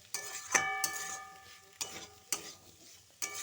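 A spoon works half a spoon each of cumin powder and salt into papaya curry in a pan, with scraping strokes and a few sharp clinks against the metal. There is a faint sizzle underneath.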